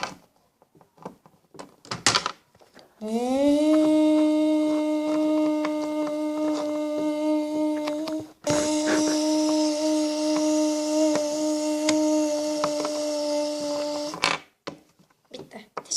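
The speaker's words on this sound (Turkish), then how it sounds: "Şimdi de fönümüzü çekelim." Hair dryer running in a spa play scene, a steady whirring motor drone lasting about eleven seconds with a brief dip midway, framed by short clicks and rustles before and after.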